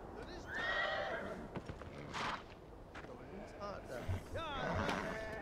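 A horse in the video game Beyond: Two Souls whinnies in several high, wavering neighs, mixed with hoof clip-clops and outdoor ambience while voices talk nearby.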